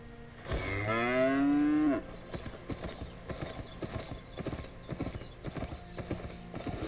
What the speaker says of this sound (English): Okay, so riding this cow is a little more expensive.